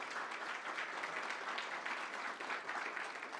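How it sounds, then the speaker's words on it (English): Audience applause for five startup finalists at a blockchain conference's Proof of Work competition, a steady, dense clapping wash from a large crowd, fairly distant and even throughout. "give a round of applause in advance for all 5 of the finalists"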